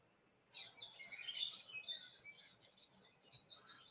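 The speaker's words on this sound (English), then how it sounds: "Nice bird sounds playing." Birds chirp and tweet in a cowboy video game, with a lively cluster of high, twittering calls that starts after a brief pause and continues steadily over soft ambient background.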